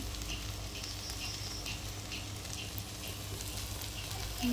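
Kochu loti, wild taro stolons, cooking in a pot on a village stove give off a steady close sizzle and bubbling hiss that continues evenly throughout, with no voices.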